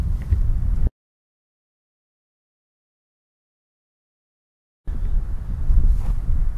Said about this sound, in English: the normal wind sounds that we're hearing right now